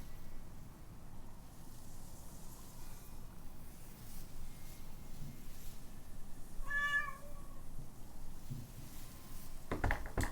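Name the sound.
hungry cat meowing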